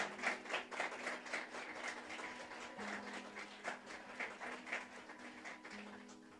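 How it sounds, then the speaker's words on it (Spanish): A church congregation applauds the Lord, a steady wash of many hands clapping at a distance, fairly faint, with a low sustained tone running underneath. "Dele un fuerte, fuerte, fuerte aplauso al Señor."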